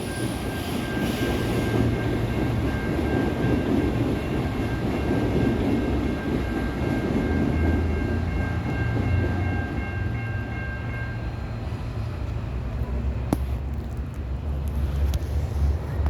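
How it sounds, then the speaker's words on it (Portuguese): A large train rolls past nearby with a continuous heavy rumble and clatter, a steady bell-like tone ringing over it for several seconds before fading, followed by a few sharp metallic clanks. "Então toca o sino, ó, tá chegando o trenzão"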